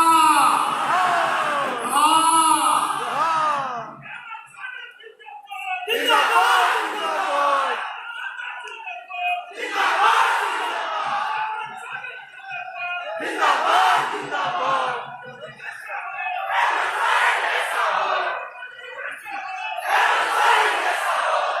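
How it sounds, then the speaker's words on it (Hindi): A large crowd at a Jharkhand government outreach event with the Chief Minister roars and cheers in repeated loud surges, each burst of shouting followed by a brief lull, close and dominating, with voices yelling throughout. "दोनों हाथ ऊपर करके जोरदार तालियों और आपकी नई तालियों की गड़गड़ाहट के बीच माननीय मुख्यमंत्री जी सादर स्वागत है"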